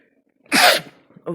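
One loud, close sneeze, followed by a short breath.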